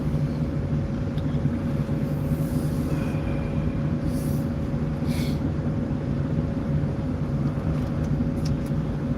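A car sits and rolls in traffic on the ride home, a steady low engine and road rumble heard from inside the cabin, continuous and fairly loud with no break.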